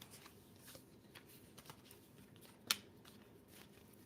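Tarot cards are shuffled and drawn during a reading: soft, close riffling and sliding of cards with one sharp snap near the end, quiet and without talk.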